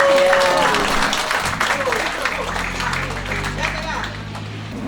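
Audience applause at an Indonesian wedding proposal ceremony (peminangan), a dense wash of clapping that starts loud and holds steady, with voices and crowd murmur mixed in throughout.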